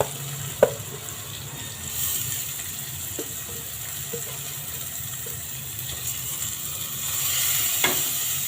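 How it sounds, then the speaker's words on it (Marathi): Rice with a little moong dal being sautéed in a pan, a low steady sizzle with occasional light clicks and scrapes of a spoon, close-up with no voices. "हे छान परतून घेऊ."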